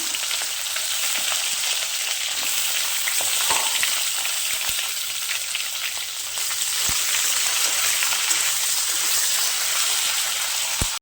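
Steady, dense sizzling of onions frying in hot oil fills the clip, close and continuous, with a few faint clicks and no voices.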